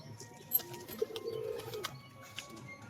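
A Murshidabadi pigeon gives a faint, short coo during a tumbling display, set against quiet background noise and a few soft clicks.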